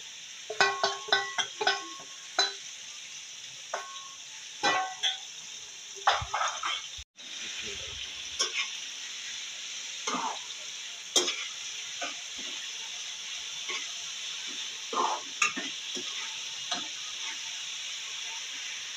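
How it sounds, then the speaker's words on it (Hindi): Keema mince mixed with karela in a hot pan gives a steady close sizzle of frying, broken by repeated scraping and stirring knocks from a spoon, with faint speech in places. "अब इसके अंदर हम अपने कीमा मिक्स करते हैं।"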